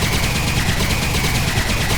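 Rapid, loud energy weapon fire from Fallout New Vegas with the Eve mod, a continuous stream of crackling pulses close up and unbroken for the whole stretch.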